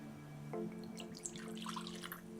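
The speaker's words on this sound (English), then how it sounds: "let's pour this and aerate it." Abreojos tequila poured from its bottle into a glass to aerate it, a steady trickling splash of liquid heard up close and alone, with faint tonal hum underneath.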